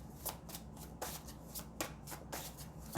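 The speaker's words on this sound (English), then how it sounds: "Okay, so I might just have to shuffle this way." Two decks of tarot and oracle cards stacked together being shuffled by hand, a series of soft, crisp riffling bursts repeating roughly every half second, close and fairly quiet.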